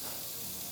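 Pico de gallo vegetables sear in hot olive oil in a pan for a high-protein breakfast, giving a steady, even sizzle and hiss throughout, close and moderately loud, with no talking.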